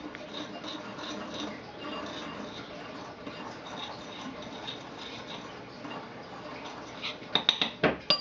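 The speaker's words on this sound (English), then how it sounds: "now that you've got the sugar and the cinnamon in the bowl, you just want to give it a nice little mixture" Sugar and cinnamon stirred together in a bowl for snickerdoodle dough, a steady soft scraping with light clinks of a utensil against the bowl that grow sharper and more distinct near the end.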